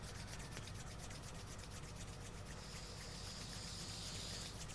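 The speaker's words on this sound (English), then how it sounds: "Take your hands and rub them together." Palms rubbing briskly together during a yoga practice, a steady close dry swishing friction that continues without pause.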